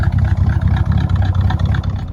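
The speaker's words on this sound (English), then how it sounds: "I love the sound of the throaty exhaust" A 1961 Studebaker Hawk's throaty exhaust rumbles steadily and loud with a deep, pulsing low drone throughout, with no talking.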